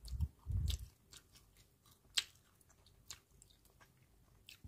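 Crispy deep-fried pork belly being chewed close up, with two heavy bursts of crunching at the start followed by sparse, quieter bites and crackles.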